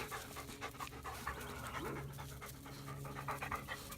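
A neighbor's Great Pyrenees puppy pants steadily and close by, a quick, breathy rhythm that runs through the whole stretch without pause.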